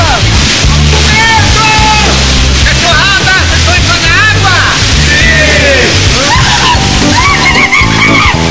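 People jumping into a waterfall about 12 metres high, rushing water and sloshing splashes throughout, with excited shouting voices and chatter over the top.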